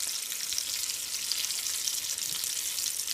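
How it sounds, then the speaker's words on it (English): Rolled tacos frying in hot oil, a steady, dense bubbling sizzle that runs evenly throughout at close range with no other sounds. "The bubbling will start to go down once the frying process has been a little bit more complete."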